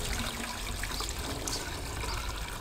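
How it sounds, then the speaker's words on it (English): Water runs steadily into a bucket while soil amendment is being mixed and distributed outdoors, a continuous close, fairly loud rushing and splashing that holds evenly throughout with no voices. "bucket's filling up"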